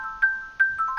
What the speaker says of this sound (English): Misha, pick up the phone.